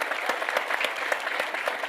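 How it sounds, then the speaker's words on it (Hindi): Audience applause for the film team at a Bollywood trailer launch event, a loud dense burst of many hands clapping with sharp individual claps standing out, continuous throughout. "इनको मैं चाहूंगा पहले तो एक बार जोरदार तालियां बजाएं"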